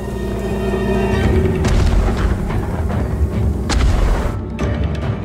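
Fireworks boom and rumble in Ghost of Tsushima's Iki Island battle, a loud dense barrage of overlapping deep blasts with occasional sharper cracks.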